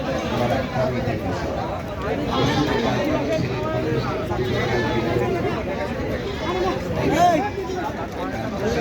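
Goats, including Nagra and Beetal breeds, bleat repeatedly at the busy Baneshwar goat market in Bangladesh, mixed into a loud crowd of people talking and a speaking voice throughout.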